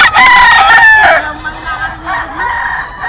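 Young gamecock stag crowing loudly and close at a gamefowl market, one strong crow lasting about a second, followed by softer clucks and background market noise.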